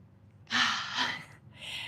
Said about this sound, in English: So take a deep breath.